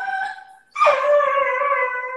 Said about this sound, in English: Why the dog's doing all that screaming?